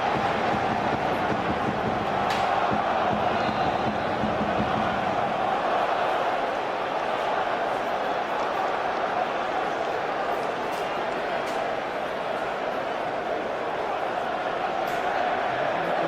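Premier League stadium crowd at Arsenal versus Manchester United, a dense, steady roar of thousands of fans filling the ground, with louder swells early on and under commentary.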